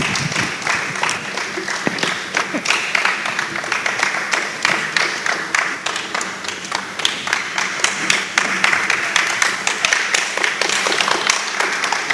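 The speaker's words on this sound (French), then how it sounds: "Encore un tonnerre d'applaudissements pour les comédiens" Sustained audience applause after a third-grade class's school theatre play, a dense, steady wash of many hands clapping with a few voices mixed in, continuing for the full stretch.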